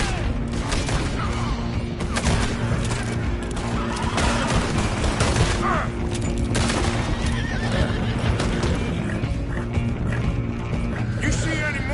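Horses whinnying and galloping in the Red Dead Redemption 2 video game, loud neighs over continuous hoofbeats, thick with gunfire and clatter, with voices mixed in.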